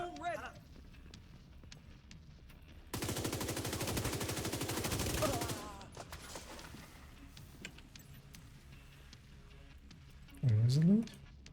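Video game gunfire, a rapid burst of rattling shots lasting about two and a half seconds, sandwiched between stretches of quieter talk and game noise, with a voice heard at the start and end.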